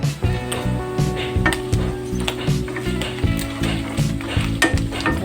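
Pork fries in hot oil for estofado, sizzling and crackling close up, with a steady underlying hiss broken by repeated clacks of a utensil stirring in the pan.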